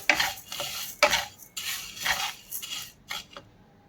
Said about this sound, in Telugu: ఫ్లేమ్ మీడియంలో పెట్టుకొని డ్రై రోస్ట్ చేసుకోవాలి